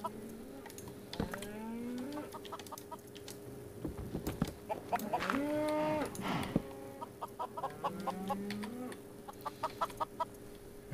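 A cow moos in the Minecraft video game, drawn-out low lowing calls rising and falling, alongside clucking chicken sounds and small game noises, moderately quiet with no talk.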